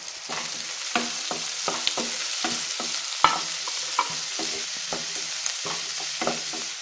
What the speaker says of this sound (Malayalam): സവാള ഒന്ന് വാടി വരുമ്പോൾ ക്യാരറ്റും ബീൻസും ചേർത്ത് കൊടുക്കുക.